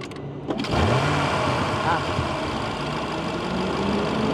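After a few clicks, a 2022 Audi RS7 Vorsprung Edition engine cranks and catches, then settles into a steady idle hum that continues at an even level.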